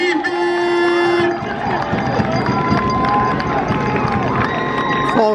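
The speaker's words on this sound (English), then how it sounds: "The crowd is coming alive here" Crowd at a semi-pro football game at Fontana Field, Windsor Flyers vs Southington Gems: sustained loud cheering and shouting from many voices, with an announcer's voice and whistle-like tones over it.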